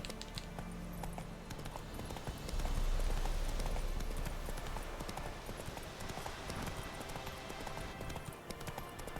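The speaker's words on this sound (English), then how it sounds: "Whoa there, Roach." Hooves of the horse Roach in The Witcher 3: Wild Hunt on PS4, a steady faint clip-clop of game footfalls running continuously under low background game ambience.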